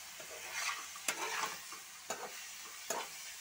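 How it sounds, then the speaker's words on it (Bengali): Vegetables for chowmein fry in a pan under a soft continuous sizzle, broken by a few sharp utensil clinks and stirring scrapes, fairly quiet and close. "এটাকে একটু ফ্রাই করে নেবো তো এটাকে একটু ভালো মতো আগে ভেজে নিতে লাগবে"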